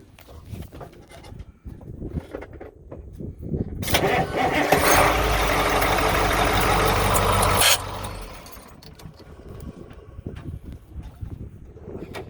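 A truck's diesel engine cranks and catches, roaring loud and steady for a few seconds at close range before dropping back, with faint background noise around it.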